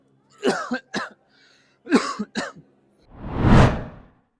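Several voiced sounds like throat-clearing and short coughs from someone with a cold come in bursts, then a single louder, rough cough or hacking exhale closes it, close up.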